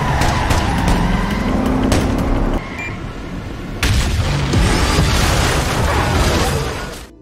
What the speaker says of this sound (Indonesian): Pada akhirnya semua mobil mengalami kecelakaan.